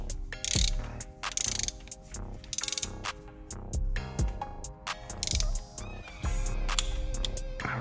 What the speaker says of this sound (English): you're going to want to use a torque wrench set to 25 newton meters or 18 foot-pounds, and you're going to want to torque the plugs